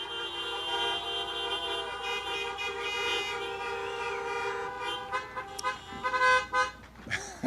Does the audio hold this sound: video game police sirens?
no